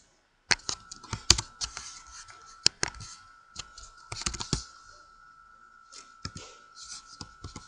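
Java code typed on a computer keyboard: quick, irregular clusters of crisp key clicks with short pauses between bursts, close and fairly quiet, with no voice.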